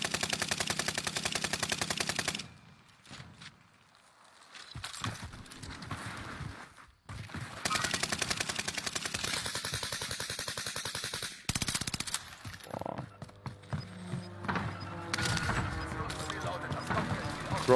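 Rapid bursts of video game gunfire from a shooter match with shield breaks, loud and repeated across most of the stretch, with brief pauses in between, mixed with other game effects under occasional talk.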